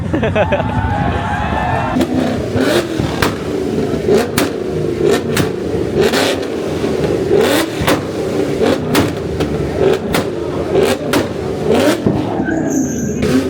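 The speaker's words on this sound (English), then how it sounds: "These boys are just revving like crazy." Sports cars rev their engines hard at a night car meet, loud throaty roars rising and falling in repeated bursts up close, with crowd chatter and voices mixed under the engine noise.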